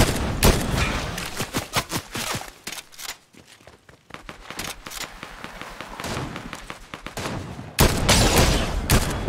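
Dense gunfire from the video game Fortnite: rapid bursts of close, loud shots and thumping impacts that briefly thin out midway, then return to heavy sustained fire.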